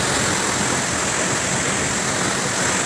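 Shallang natural waterfall in Meghalaya, a steady, dense roar of falling water that holds loud and unbroken from start to finish with no voices.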